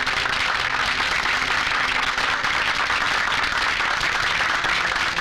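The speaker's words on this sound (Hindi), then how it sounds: "तालियां।" Crowd applause at a public gathering, dense and steady clapping from many hands lasting the whole stretch at an even, fairly loud level without talk.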